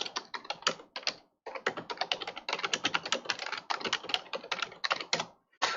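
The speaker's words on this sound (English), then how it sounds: "I can hear him typing and stuff" Rapid typing on a computer keyboard in a Christmas story setting, steady clattering keystrokes with brief pauses, fairly close and alone with no talk.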